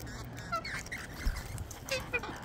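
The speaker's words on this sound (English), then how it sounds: "Hello, squeaky birds." Wild birds being fed give short squeaky and honking calls close by, a few bursts over a soft, steady background.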